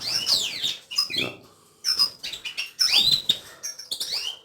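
Goldfinches and canaries in an aviary chirp and twitter in quick, bright bursts of song, close and lively, with brief pauses between flurries.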